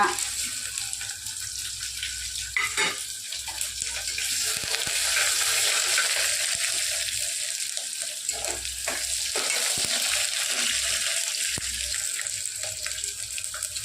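Mustard, cumin and fenugreek seeds tempering in hot oil for a menthi pappu, a continuous crackling sizzle of moderate loudness with intermittent stirring knocks and scrapes, no speech.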